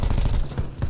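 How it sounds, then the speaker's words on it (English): Rapid gunfire in a video game, shotgun blasts fired in quick succession, a dense string of punchy low bursts packed into one second, fairly loud with no speech. "Yep, shotgun."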